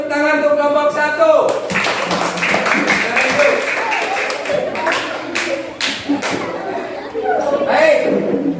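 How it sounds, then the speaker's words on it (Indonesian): A classroom bursts into applause for the first group, dense clapping from many students starting after a moment of talk and continuing for several seconds amid chatter and desk taps. "kasih tepuk tangan untuk kelompok 1"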